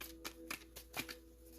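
Tarot cards are shuffled close up in a few quick, soft riffling bursts, faint and otherwise quiet.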